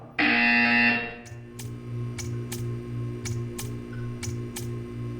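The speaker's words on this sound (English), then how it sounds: "You will hear a buzzer. When you hear the buzzer, stare at the art." In the video game Portal 2, a loud, harsh electronic buzzer blares for about a second, then fades into a low droning hum punctuated by a regular series of sharp ticking clicks.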